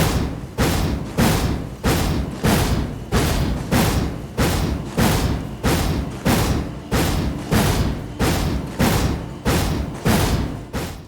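Wild Strikes Ash of War in Elden Ring, a flurry of heavy weapon swings delivering a steady run of loud, rhythmic thudding impacts, roughly two per second, with no talk.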